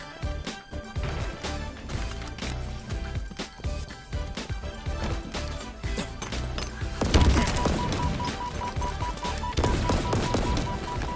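Fully automatic gunfire in a Halo Infinite Capture the Flag multiplayer match: dense, rapid bursts run throughout over busy game sound, growing louder and harsher in the last few seconds.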